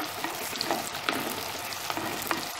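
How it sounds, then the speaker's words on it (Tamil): Chopped onion and green chilli sauté in hot oil in a pan for green tamarind rice, giving a steady close sizzle broken by light stirring clicks. "வெங்காயம் பச்சை மிளகாய் போட்டு வணக்கிறோம்"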